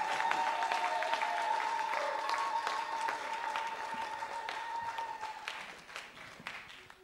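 A church congregation claps steadily during a fasting and prayer service, with sustained applause and a held musical tone underneath, gradually thinning and fading toward the end.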